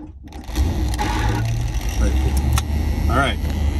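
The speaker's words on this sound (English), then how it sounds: "once I give power to the ignition, I will pull the starter wire out" GMC truck engine cranked and started by a jumper wire from starter to ignition, a close mechanical rumble that catches and settles into idle while a voice talks over it.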